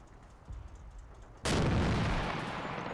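A tank gun fires in the WWII tactics game Combat Mission, a single sudden loud blast breaking in after quieter rumbling and sustaining a heavy roar with no talk.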